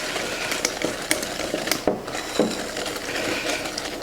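Flour being stirred into a cream mixture for crème pâtissière, with soft scraping and a few light knocks of the utensil against the bowl, close and steady and heard without voices.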